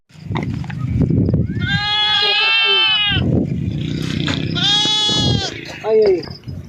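Two loud, long goat bleats stand out clearly, each quavering and strongly harmonic, the second followed by a shorter call; people talk and murmur nearby between the bleats at a livestock sale.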